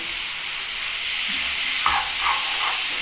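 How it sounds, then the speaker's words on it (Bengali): Soybean chunks coated with besan and kasuri methi stir-fry in hot oil, with a loud, close sizzle broken by the scrape of stirring. "এইটাও তেলের মধ্যে আবার কষিয়ে নিচ্ছি"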